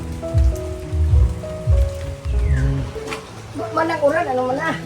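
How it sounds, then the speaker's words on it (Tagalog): Rain falls steadily in the background as a hiss beneath close, loud talking, with a voice running over it near the end. "Ulan pa naman."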